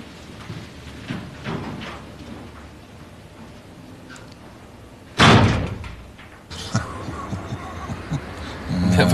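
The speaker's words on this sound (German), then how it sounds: "Sie wissen ja, wo die Tür ist. Einfach nur zuschlagen." A door slams shut with one sharp, loud bang inside a room, followed by a quieter rumble and a scrape, set against a low background hum.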